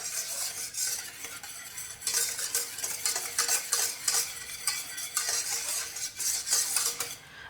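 Wet cake ingredients being mixed with mango puree in a bowl, a steady scraping and stirring with frequent utensil clinks against the bowl, close and fairly loud throughout, no voices.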